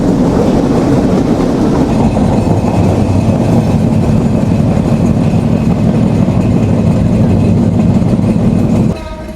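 Rupsha Express, running from Chilahati to Khulna, pulls out of a railway station at dusk with a loud, steady rumble and rattle of wagons that continues throughout before dropping off sharply right at the end.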